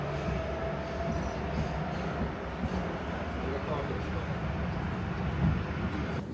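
A Budapest metro train in motion, heard from inside the car as a continuous loud rumble of wheels and motor with a faint high whine, a voice talking over it.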